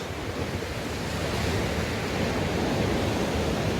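Sea waves surging and crashing against the rocky shore at Nolbawi near Hupo, Uljin, during black sea bream fishing, a loud, continuous roaring wash of surf that fills the whole stretch without speech.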